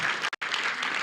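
A church congregation applauding during a Sunday service, dense clapping that breaks off for a split second and then resumes.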